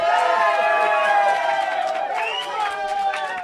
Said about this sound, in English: I want a big cheer and a round of applause just so that you draw people in